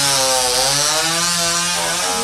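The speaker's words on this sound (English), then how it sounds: "Witch bitch isn't having any of it and revs up a chainsaw to cut Arnold some slack." A chainsaw in a scene from the horror comedy Troll 2 revs hard and loud, a steady high-pitched engine whine with rising and falling pitch across two seconds, alone with no talking.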